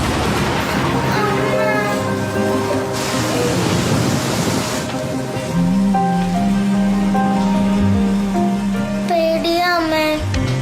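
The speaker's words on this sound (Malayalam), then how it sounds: "മഴ കനത്തിരിക്കുവാണല്ലേ?" Heavy rain hisses steadily throughout, a dense wash of noise under voices and tonal background sounds.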